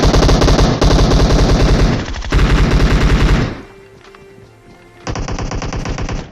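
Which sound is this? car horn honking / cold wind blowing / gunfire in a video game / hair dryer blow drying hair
gunfire in a video game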